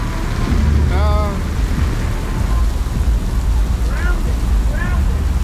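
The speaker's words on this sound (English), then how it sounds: "Nobody didn't predict the rain" Steady rain pours down in a dense hiss at an outdoor music festival, with a few faint voices briefly heard over it.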